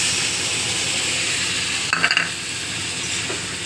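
Ground coriander, cumin and chili paste sautéing in oil for a rohu fish curry, a steady loud sizzle with a brief clatter of a stirring spoon partway through.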